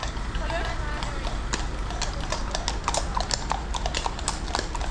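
Horse hooves clip-clopping on a road near a junction, a quick steady run of hoof strikes over constant traffic rumble, with a voice speaking faintly.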